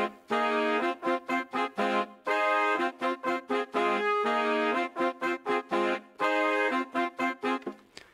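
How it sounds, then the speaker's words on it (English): A vintage horn section from the Session Horns Pro sample library plays a bouncy melody, short staccato stabs alternating with held notes in a repeating phrase, clear and close with no voices. "I just went with the first preset out of context, Session Horns Pro Performance, and I went with the vintage section preset and this voicing."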